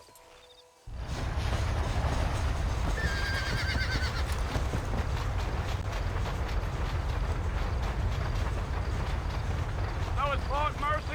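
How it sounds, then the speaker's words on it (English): A horse whinnies in the Wild West video game Red Dead Redemption amid a steady rumble of hooves and movement, loud and continuous, with a shrill neigh rising briefly near the end. "So yeah, we can ride a horse."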